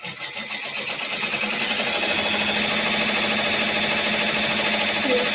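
A Brother PR680W embroidery machine runs continuously with a loud, fast, even mechanical chatter of needle strokes, building slightly over the first second and then holding steady and close throughout.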